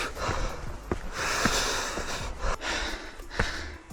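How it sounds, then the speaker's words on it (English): A hiker breathes heavily while climbing a trail outside Shenzhen, China, with close, loud huffing exhalations and sharp sniffs recurring irregularly over a steady outdoor background. "I started breathing just a little harder than usual"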